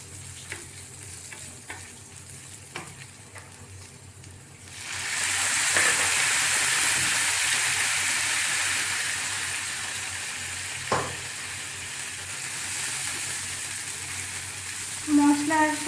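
Spice masala fries in a pan for a Kerala-style rohu fish curry. Light stirring taps give way to a loud, sustained sizzling hiss that carries on steadily, with an occasional scrape of the spoon.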